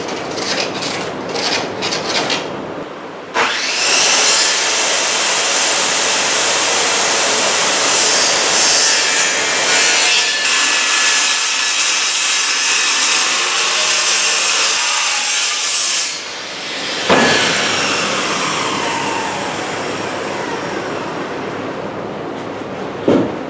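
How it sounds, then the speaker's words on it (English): A power saw cuts through a sheet of plywood for a dog house frame, a loud continuous rasping whine that cuts in abruptly, holds for about thirteen seconds, dips, then resumes more briefly. "I'll go ahead and cut my plywood that's going to go on the top and the bottom of this frame."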